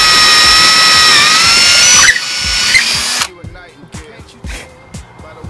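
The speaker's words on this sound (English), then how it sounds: "And then we'll drill it out here." A power drill whines loudly for about three seconds, its pitch dipping as it bites in, then cuts off, leaving quieter handling clatter.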